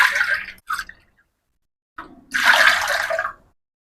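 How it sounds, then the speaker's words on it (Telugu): Water from a cup splashes into a pot of rinsed chana dal in two short, close pours separated by a brief pause. "ఇందులో ఏ కప్పుతో అయితే పప్పు తీసుకున్నామో అదే కప్పుతో నీళ్ళు పోసుకోవాలి."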